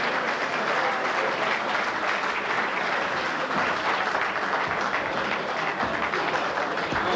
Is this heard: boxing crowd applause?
yes